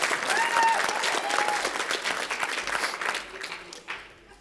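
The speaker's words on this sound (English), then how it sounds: "You just give them a round of applause there, just so they feel better." Wedding guests applauding the couple at a reception, a lively burst of clapping that thins out and fades toward the end, with a couple of stray claps trailing off.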